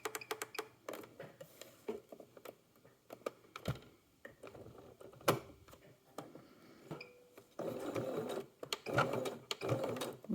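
A sewing machine stitches a hook-and-eye tape closure slowly, with short bursts of rapid needle clatter and pauses for backstitching, ending in a longer continuous run, close and clear.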